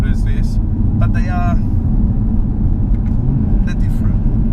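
An Audi TT RS sports coupe's five-cylinder engine gives a steady, close, low rumble throughout while someone talks over it.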